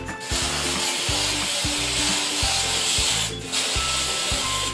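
Glitter spray paint is sprayed from an aerosol can onto a mason jar lid: two long, close, steady hissing bursts separated by a brief pause.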